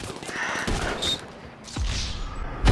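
Gunfire in the video game GTA 5 Online: bursts of rapid shots and sharp impacts cluster at the start and again near the end, loud and close, with little talk over them.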